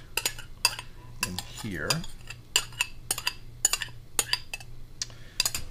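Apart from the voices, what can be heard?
eggs being put into a big bowl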